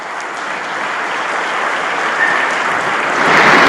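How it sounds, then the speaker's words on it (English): A conference audience at an investment summit in Riyadh breaks into sustained applause, a dense wash of clapping that swells louder toward the end. "Please, I think we deserve a round of applause here."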